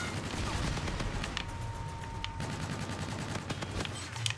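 Gunfire in the multiplayer video game Call of Duty: Infinite Warfare, a dense run of rapid shots under a constant noisy game mix, with a few sharper bursts standing out, moderately loud.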